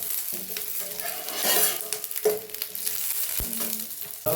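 Chopped garlic and capsicum frying in oil in a pan, a bright continuous sizzle broken by repeated scraping and stirring strokes and an occasional sharp clack of the utensil.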